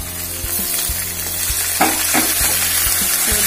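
Onions fry in a pan until they change colour, a close, continuous sizzle with a few soft stirring scrapes and no one speaking.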